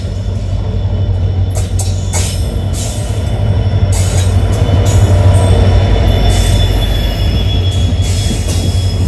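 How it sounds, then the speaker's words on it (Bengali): A local train rolls into a station with loud, repeated metallic wheel squeals over a continuous low rumble of the cars, close by and without talk. "একটা লোকাল ট্রেন আসতে দেখে"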